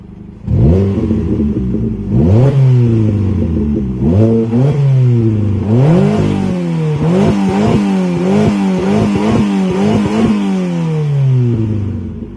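A Fiat Panda 100HP 1.4 engine with an aftermarket exhaust revs repeatedly, rising and falling in pitch in several sharp bursts, loud and close with a raspy, throaty tone.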